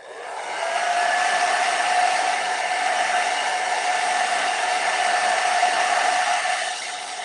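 A hair dryer blows steadily for several seconds, close and loud, drying a watercolor pineapple painting, with a constant whirring hum that switches on and off cleanly.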